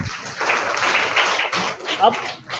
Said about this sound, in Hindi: हाँ, तो ताली बजाओ उसके लिए भी।